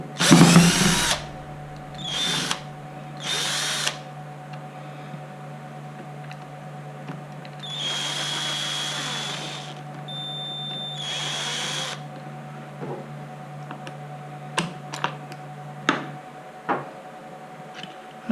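A cordless power drill backs screws out of an MGI Zip Navigator golf trolley gearbox, with several separate bursts of whirring, a longer run in the middle and light clicks and handling noises between them.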